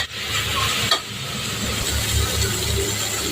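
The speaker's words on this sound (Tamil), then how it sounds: "புதினா தலை எல்லாமே போட்டு நல்லா வதங்கியாச்சு" Onions and mint leaves sauté in a pan for chicken biryani, giving a continuous loud sizzle with stirring scrapes and one brief clatter, and no talking.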